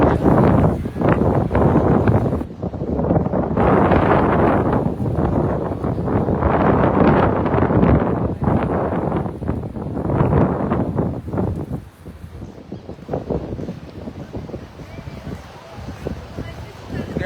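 Strong wind at a beach buffets the microphone in continuous gusts, with a muffled rush throughout and a voice talking faintly beneath it.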